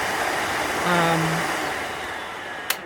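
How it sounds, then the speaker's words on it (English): A dust collector's suction runs with a steady broadband whoosh and a brief tonal hum partway through, ending in a short sharp click. "if I put the suction on, you see that it holds it in place"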